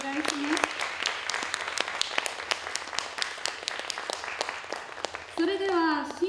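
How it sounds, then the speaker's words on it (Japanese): Audience at the 2023 Naha tourism campaign lady pageant judging in Naha applauds the contestants, sharp distinct claps in a steady patter, with a voice speaking briefly near the start and again at the end. "やっと今緊張感から解放される彼女たちに大きな拍手をお願いします"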